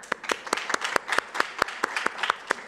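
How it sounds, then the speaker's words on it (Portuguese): An audience applauds at an Android developer meetup with fast, rhythmic, evenly spaced claps that sound like a room full of people clapping together for nearly three seconds. "palmas, palmas, palmas"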